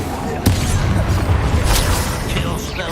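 Bombarda blasting spell going off in the Hogwarts Legacy video game, a dense rumbling explosion with sharp cracks and crashing debris, loud and continuous under a voice calling out spells.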